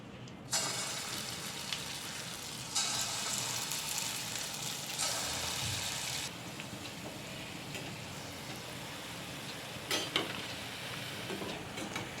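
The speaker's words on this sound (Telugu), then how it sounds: "ఆయిల్ హీట్ ఎక్కాక చిన్న చిన్నగా పునుగులు వేసుకుందాం." Small spoonfuls of punugulu batter deep fry in a kadai of hot oil, giving a dense bubbling hiss that swells as fresh batter drops in, with occasional clinks and no voices.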